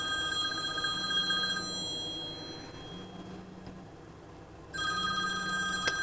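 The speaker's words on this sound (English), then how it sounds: "That would be my phone ringing." A phone rings in repeated electronic bursts, with pauses between rings, clear and fairly close in a quiet room.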